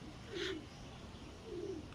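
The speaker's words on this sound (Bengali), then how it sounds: "চলো পায়রাগুলো সব ধরে ধরে শখ করানো যাক" Star Kalanka pigeons give two soft, low coos about a second apart, close by in a quiet space with a faint higher chirp near the first.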